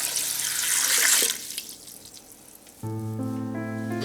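Water runs and splashes as a litre is poured into a pot over lemon, apple and thyme for homemade plantain-honey cough syrup, a loud rushing pour that fades away, followed by a ringing, tonal clink near the end.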